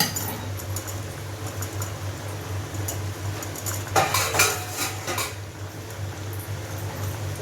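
Fried sweets are lifted from the pan into a dish, with metal utensils clinking and scraping against cookware over a steady hum of a gas flame, with a brief cluster of sharper clinks midway.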